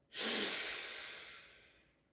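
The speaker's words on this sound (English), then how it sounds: "what if we open both nostrils and inhale?" Slow, deep inhale drawn through both open nostrils during a guided body-work session, a single soft airy breath that swells quickly and then tapers off over about two seconds, close and quiet with no talking.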